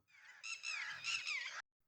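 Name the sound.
red-wattled lapwing call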